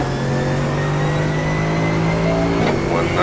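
A Mercedes GT3 race car in iRacing accelerating hard, its engine note droning loud and steady, then climbing in pitch with a gear change near the end, close and alone.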